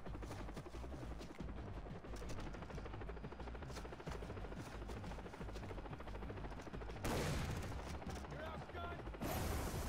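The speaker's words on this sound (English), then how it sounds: "Holy shit, they have a fucking helicopter" Helicopter in a Souls-style video game, a steady buzzing rotor drone blended with bursts of gunfire, loud and continuous, with a harsher burst near the end.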